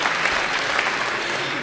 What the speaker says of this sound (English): Let's have a round of applause for you too.